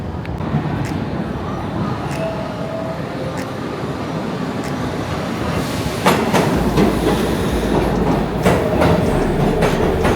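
A New York City subway train in Manhattan rumbles past close by, a loud steady roar with rhythmic clattering of wheels growing heavier partway through.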